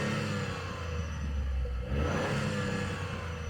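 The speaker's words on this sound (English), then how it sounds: "Rev up." Toyota GR Supra with a 3-litre straight six revving, a loud sustained engine roar with a low rumble that swells near the middle, heard close with no talking.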